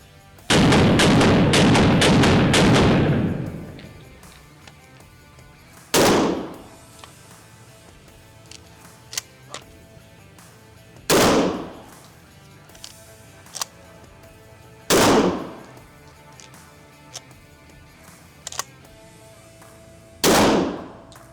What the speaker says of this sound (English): I'll fire a few rounds of slug, and then we'll change over with the, a buckshot